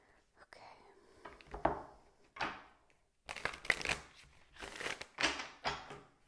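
Tarot cards pulled awkwardly from a holder and handled, producing soft papery shuffles and rustles in several bursts, with quiet whispered speech between them.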